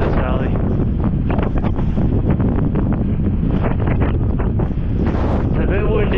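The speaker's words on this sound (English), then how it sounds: "It's a bit windy." Strong wind blows continuously in a mountain valley in Sarek, buffeting the microphone with loud low rumbling gusts throughout.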